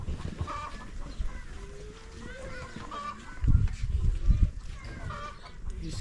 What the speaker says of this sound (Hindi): और ये मुर्गे।